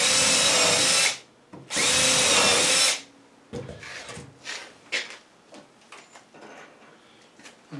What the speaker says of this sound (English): Put a couple of pilot holes in here.